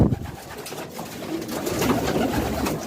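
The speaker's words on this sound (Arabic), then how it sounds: "طبعا هما الحمام بيخاف لما حد بيدخل لهم، بس ده الحمام ده بيطير اصلا، بيطير وبيرجع تاني" Domestic pigeons in a breeding loft give soft, overlapping coos and rustling wing movement at close range, with no talking over them.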